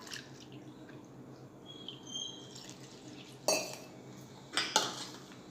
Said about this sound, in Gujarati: આ રીતે આપણે પાણી એડ કરી અને મિક્સ કરી દઈશું।